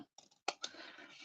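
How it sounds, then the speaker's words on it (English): Scissors snip off excess paper at a craft table, a few quick dry clicks and short cuts close by, fairly quiet, with no talking. "then we'll just turn it over and snip this excess off."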